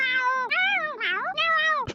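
A cat in a video game gives several drawn-out, clear meows in a row, loud and close, ending with a brief knock.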